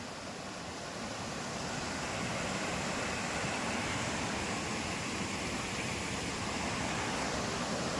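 Rivers and streams in the Konkan run full after a night of heavy rain, giving a steady, broad rushing roar of water that holds at an even, loud level throughout with no voices.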